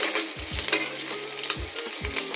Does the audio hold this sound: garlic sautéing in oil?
yes